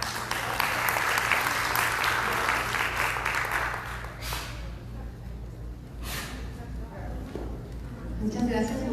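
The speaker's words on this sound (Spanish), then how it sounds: "Un aplauso, por favor." Conference audience at a world congress on childhood and adolescence in Colima, Mexico applauds steadily for several seconds, dense and roomy, then fades into quieter hall noise.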